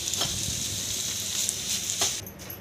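Mashed dates are stirred in a hot pan with dry fruits over the flame while making date ladoos, giving a steady close sizzle with soft scraping strokes of a spoon and no talking.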